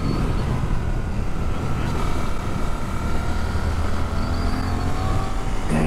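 Suzuki GSX-8S motorcycle ridden on the road with extra weight on the back, a steady engine drone under heavy wind rush, close and continuous, with faint changes in engine pitch.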